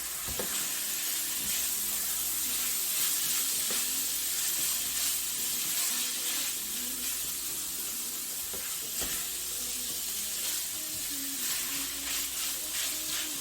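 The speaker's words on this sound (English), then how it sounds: "add our steak back in with the vegetables. Get everything mingled together" Steak strips and vegetables for quesadillas sizzling in a hot pan while being stirred, a constant bright hiss with scattered spatula clicks and scrapes throughout, close and alone.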